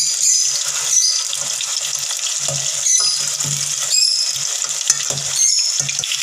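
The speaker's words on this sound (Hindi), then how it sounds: "हमारी ये जो अरवी है फ्राई हो चुकी है।" Taro (arvi) pieces frying in hot oil, a steady high crackling sizzle that runs throughout, with soft intermittent stirring or utensil knocks underneath and no talking.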